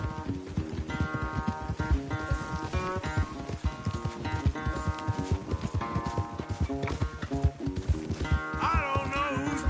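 Horses gallop hard in a race in Red Dead Redemption 2, a rapid, steady clip-clop of hooves carrying loudly throughout over a swelling musical score, with no talking.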